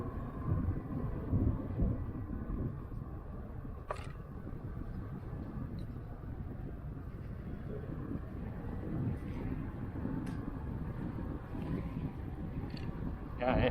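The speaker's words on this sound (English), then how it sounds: "It's a little bit windy right now." Steady wind buffeting the microphone while cycling on a Sherman S along the Stanley Park seawall, a continuous low rumbling roar with occasional faint clicks and no clear speech.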